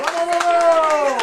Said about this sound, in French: Beaucoup applaudir les enfants.